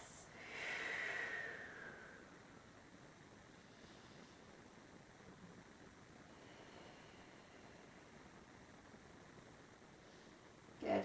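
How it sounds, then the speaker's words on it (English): A single long, deep exhale during hatha yoga, fairly close and soft, followed by near silence with faint background hiss. "Nice deep breaths."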